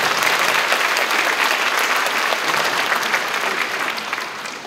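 A large concert audience at an outdoor autumn family music event gives loud, sustained applause that continues steadily from start to finish, then fades slightly toward the end.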